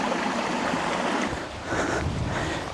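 Creek water flows steadily outdoors, a broad continuous rushing wash with slight swells, close and fairly loud, with no voices.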